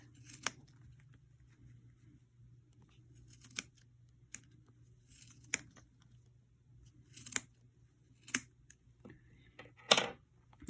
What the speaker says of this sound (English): I got to get in there and kind of cut those two yarns that were extending from this side to that side